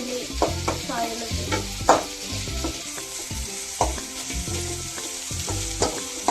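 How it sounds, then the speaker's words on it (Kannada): Frying in a little oil in a pan, a bright sizzle punctuated by frequent rhythmic spatula strikes and scrapes, close and busy throughout without speech. "ಹಾಗೆ ಫ್ರೈ ಮಾಡುತ್ತಾ ಇದೆ."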